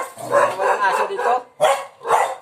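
Tied-up dogs at a house in the Philippines barking up close, a run of loud overlapping barks followed by two sharper single barks after a short pause.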